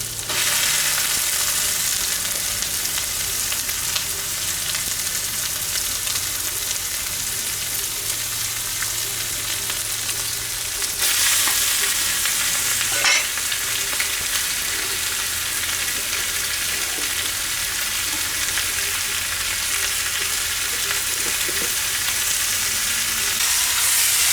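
Frog stir-fried with wild holy basil in a hot pan, a loud, continuous close sizzle and hiss of frying with scraping stirs throughout, steady over its whole length, with no voices.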